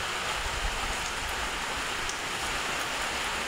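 Heavy morning rain pours steadily and loudly, a dense continuous hiss of drops with no voices over it.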